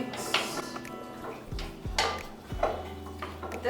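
Chicken wings being tossed with a little oil in a metal bowl, a utensil scraping and clinking against the sides in a few quick, close strokes.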